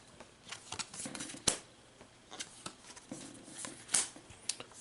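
Cards are drawn and handled at a tabletop game of Marvel Champions, with quiet, close papery slides and flicks and a couple of sharper snaps, the whole sequence faint.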